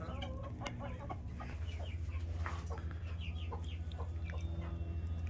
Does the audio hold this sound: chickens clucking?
yes